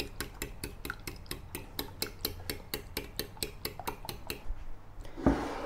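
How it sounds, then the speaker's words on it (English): Eggs mixed with shrimp are beaten in a bowl, a utensil clicking quickly and evenly against the sides for several seconds. The beating stops and a single louder clack follows. Close, with no talking. "beat the egg to combine everything together, mix thoroughly, and beat it until slightly fluffy"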